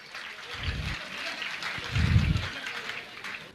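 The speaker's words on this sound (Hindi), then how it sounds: "आप लोग तालियां बजाइए।" Crowd applause at a Jain spiritual gathering in Bhopal during an honouring of guests: steady clapping runs throughout, with a couple of heavier low thumping bursts rising above it.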